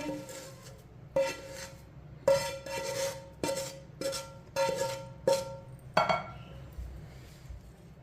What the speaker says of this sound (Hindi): मसालों को अच्छी तरह मिक्स कर लेंगे।